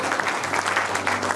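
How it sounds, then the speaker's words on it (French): A wedding crowd applauds steadily, many hands clapping together in a dense, even patter. "Un grand applaudissement"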